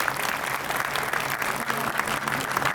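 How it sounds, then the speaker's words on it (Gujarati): Loud, sustained audience applause at a 25th-anniversary celebration chat show, many hands clapping together in a continuous close roar. "જોરદાર તાળી થઈ જાય."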